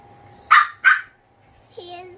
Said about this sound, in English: We're sorry about that, but that's just the dogs.